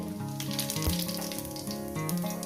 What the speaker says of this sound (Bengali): তেলটা আমার গরম হয়ে গেছে বন্ধুরা দিয়ে দেবো এখানে গোটা জিরে